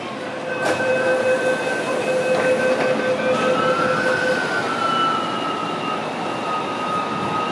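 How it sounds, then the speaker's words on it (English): An MTR metro train rumbles loudly into Hung Hom station, platform 1, with sustained metallic squealing tones, brakes whining and shifting pitch as it pulls in. "A train to Luo Wu is arriving."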